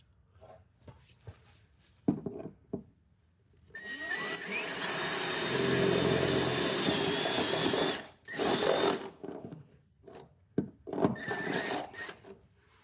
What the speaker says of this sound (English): I'm using a step drill.